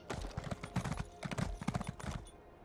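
Horse hooves clip-clopping in The Elder Scrolls Online, a steady rapid run of hoof strikes at a trotting rhythm, close and fairly quiet, continuing without pause for the whole stretch.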